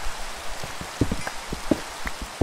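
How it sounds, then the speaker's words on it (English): Rain falling in the video game Minecraft, a soft steady hiss with scattered patter and drips from drops striking surfaces, heard on its own at low level. "Rain."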